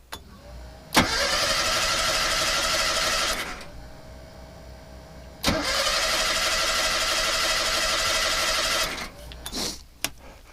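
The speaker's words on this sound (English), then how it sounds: "Hopefully it starts without having to take the air cleaner off." Carbureted engine with a suspected gummed-up carb needle cranking without firing, two long bursts of steady starter whirring, each a few seconds, separated by a pause and ending with brief clunks.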